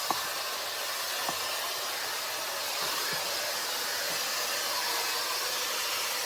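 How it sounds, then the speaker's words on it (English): A Shark FlexStyle hair styler blows steadily on its cool shot setting, a loud, continuous airy rush that runs on unbroken without any pauses. "you can press this cool shot to seal in your curls"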